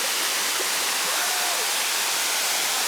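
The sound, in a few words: waterfall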